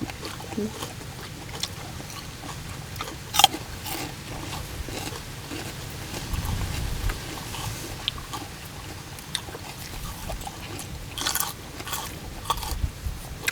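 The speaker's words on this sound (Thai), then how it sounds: "กินผักกาดกรอบเอาผักกาดกรอบน้ำปลา มาลองดีมั้ง" Crisp lettuce dipped in fish sauce is bitten and chewed close to the mouth, giving a run of irregular wet crunches and munching sounds over several seconds with no talk.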